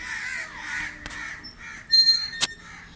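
Crows cawing near a eucalyptus grove beside a home park, several harsh calls overlapping at moderate distance, with a couple of sharp brief knocks among them.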